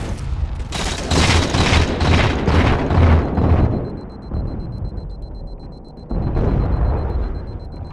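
A sticky grenade detonates in Halo 4 during a Capture the Flag match, giving a loud, close series of heavy booming blasts with a rumbling tail, and another blast follows near the end.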